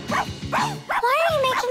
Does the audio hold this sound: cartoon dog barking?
yes